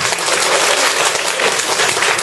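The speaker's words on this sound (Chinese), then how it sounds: "这里可以有掌声了吧？" Seminar audience at a business marketing talk applauding, a loud, dense wash of many clapping hands sustained evenly from start to finish, no speech.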